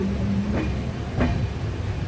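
The Rapti Sagar SF Express runs at speed between Palakkad and Erode, giving a steady rumbling rail roar with two quick clacks about half a second apart, heard from on board.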